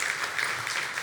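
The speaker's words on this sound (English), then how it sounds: "You can clap for that." A crowd at a community event claps together, a short, dense burst of applause that stays steady and full for its whole length.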